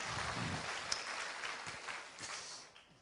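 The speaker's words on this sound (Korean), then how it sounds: "제가 수준 있다고 여러분도 같이 박수 한번 쳐주는 거예요" A church congregation claps for the choir during an evening revival service, a brief burst of fairly faint applause that fades out within a few seconds.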